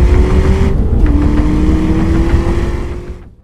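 A supercharged 7.3-liter Godzilla V8 in a Ford Super Duty truck roars loudly and steadily on a dyno at a tuning shop, holding a high drone before fading out at the end.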